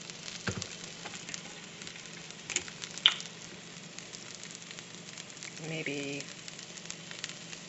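Onions and vegetables frying in vegetable oil in a pan with a soft, continuous sizzle, broken by a few clatters and utensil taps, while a person speaks briefly.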